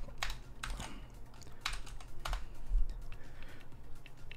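Keys clatter on a computer keyboard during an English bulldog search typed into Google, in short bursts of quick clicks with brief pauses, close and fairly quiet over a low steady hum.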